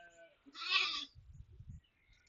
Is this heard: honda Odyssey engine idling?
no